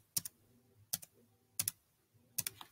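Keystrokes on a computer keyboard while someone edits code in VS Code, in four short clustered bursts of clicks spaced roughly evenly, close and fairly quiet, with no talking.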